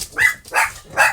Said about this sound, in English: Dogs have just flipped out.